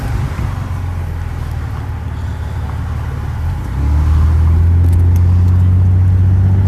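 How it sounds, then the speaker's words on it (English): Cars in a Toledo traffic jam rumble nearby, a low steady road noise that swells midway as a vehicle engine grows louder and closer. "Here we have a traffic jam."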